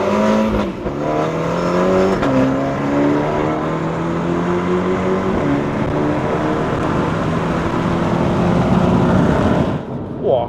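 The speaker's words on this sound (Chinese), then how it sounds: "OK， 我们来做个0到100的测试。" An F56 MINI JCW GP Inspired Edition accelerates hard from inside the cabin during a 0-100 run, its engine note climbing through several gear shifts, loud and continuous.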